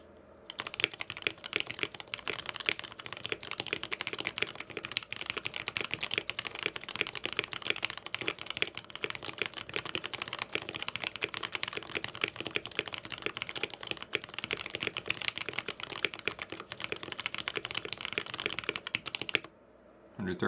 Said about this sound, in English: since these are Gateron yellows, I'm expecting to type 110 words per minute